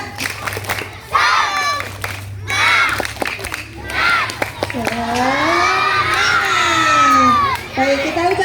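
A crowd of schoolchildren at a class closing chant and clap a spirit cheer together, loud and close, with rhythmic claps and shouted voices rising into a sustained group yell.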